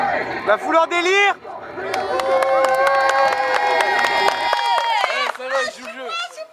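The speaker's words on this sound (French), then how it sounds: "La foule en délire!" A wrestling crowd at a CWF show cheers and shouts wildly, a dense, sustained roar of voices with strong tonal yells holding through most of the clip before fading into scattered shouting.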